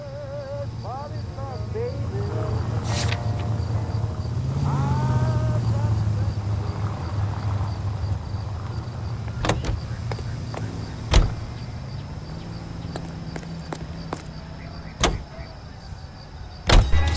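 A car driven in LA Noire, a steady engine hum under conversation, with door clunks, a window motor whir and several sharp thumps toward the end.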